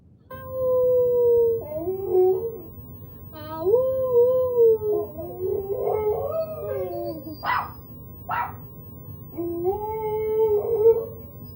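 A dog at the door howls and barks in drawn-out, wavering cries broken by short sharp yips, close and fairly loud, repeating over about ten seconds with brief pauses and no talking.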